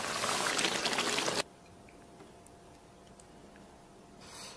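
Tofu and tomato in a pan with chili bean paste, fresh chili sauce, soy sauce, chili powder, water and oyster sauce bubble loudly for a moment, then drop away to a quiet room hiss.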